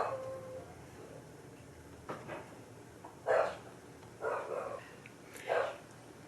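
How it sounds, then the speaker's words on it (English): A dog barks in short bursts indoors, several separate yaps spread across a few seconds, moderately close, over a quiet background with no talking. "Every time I want to talk, she starts barking."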